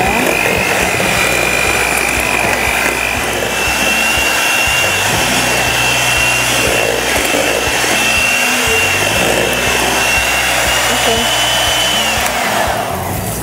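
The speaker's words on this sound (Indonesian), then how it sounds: "Lalu kita mixer." An electric mixer whips pastry cream with matcha green tea powder, a loud, steady high motor whine that runs unbroken and close, with no talking.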